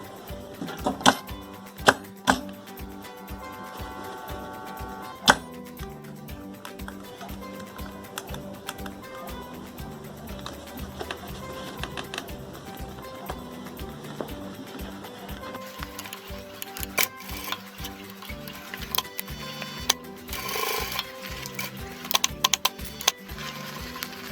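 A sewing machine stitches across a marked line on a crocheted bucket bag's strap, giving a steady, fast mechanical patter that runs close and fairly loud for most of the stretch, with brief pauses and small clicks along the way.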